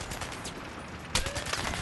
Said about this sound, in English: Who has an automatic shotgun with slugs?